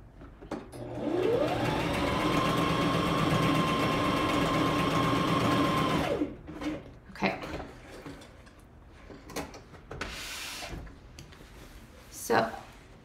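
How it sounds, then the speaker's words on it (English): A sewing machine stitches in a sewing class, first a steady humming run of about five seconds with a clear motor whine, then it stops, leaving scattered handling knocks and rustles. "I'm just going to stitch my other"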